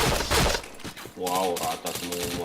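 Rapid automatic gunfire bursts in the shooter game PointBlank, loud clustered shots in quick succession, with a player talking over parts of it.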